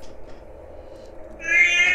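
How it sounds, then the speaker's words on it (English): A cat meows once in a movie trailer, a single clear, fairly loud drawn-out cry that rises near the end over a quiet low background. "Oh, a cat."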